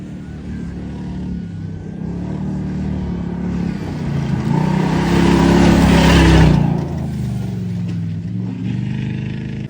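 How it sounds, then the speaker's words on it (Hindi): Cars arriving at a hub rally event give a continuous rumble of engines that swells as one vehicle passes close and loud, then eases back to a steady background drone. "अभी भी गाड़ियाँ आ रही हैं सारी।"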